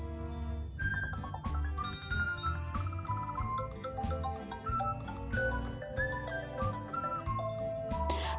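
iPhone ringtone previews play one after another: layered electronic chimes and tinkling melodic notes over a steady rhythmic backing, heard alone at moderate level.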